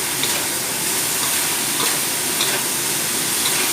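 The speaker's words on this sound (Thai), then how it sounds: "แล้วก็เร่งไฟแรงนะครับ ผัดปึ๊บ" Pork with red curry paste and basil stir-fried in a pan over high heat, giving a steady loud sizzle and hiss with faint scraping stirs throughout, no voices.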